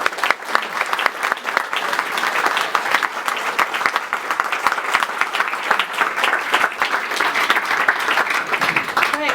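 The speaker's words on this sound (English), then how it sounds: "let's finish up by giving another warm round of applause and gratitude" Sustained audience applause following a talk at a union-building event, dense and steady clapping from a large room that holds at an even level throughout with no voices breaking through.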